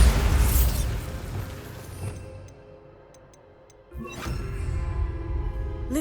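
Bombarda blasting spell cast in Hogwarts Legacy: a loud, close explosive burst that rumbles and fades, a few quiet ticks, then a second sharp blast with a ringing tail.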